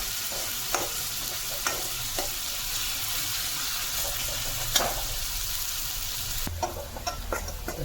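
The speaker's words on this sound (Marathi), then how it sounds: "कांदा मस्तपैकी भाजून घेऊया।" Onions fry and crackle in a pan while being stirred, a steady close sizzle with scraping accents and occasional sharper clicks, no talking.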